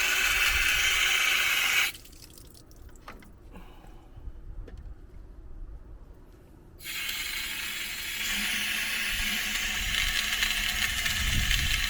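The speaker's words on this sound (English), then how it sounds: "Got the hose, just rinse it." Garden hose water rinsing a Hayward salt chlorination TurboCell, a steady close hissing spray that drops away for a few seconds of quieter dripping and handling before the flow resumes loud and continuous.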